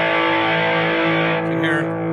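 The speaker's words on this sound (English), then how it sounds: "this pedal here, you can obviously drive one gain all the way up" An electric guitar runs through a Caline Pure Sky overdrive pedal with the gain turned all the way up, producing a loud, sustained, saturated chord that rings steadily for about two seconds with no talking.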